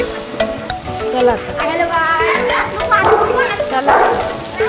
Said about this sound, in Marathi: कुत्रे जर्मन शेपर्ड.